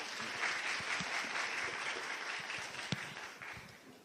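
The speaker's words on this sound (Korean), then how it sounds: "그럼 강사님께 따뜻한 환영의 박수 부탁드리겠습니다" Welcoming applause from a lecture audience greeting a Bank of Korea speaker, a steady wash of many hands clapping at moderate distance, sustained and slightly fading toward the end.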